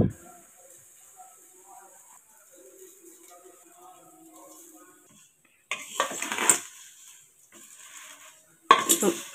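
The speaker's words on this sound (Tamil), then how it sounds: "சேமியா வறுத்துக்கலாம்" Vermicelli (semiya) roasting in oil in a pan over a slow flame, soft scraping at first, then bursts of louder clattering and stirring against the pan, close by, with a brief voice near the start.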